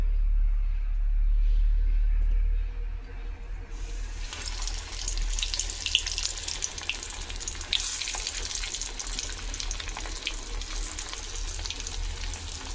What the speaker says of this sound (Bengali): এবারে আমি এটা তেলে ছেড়ে দেবো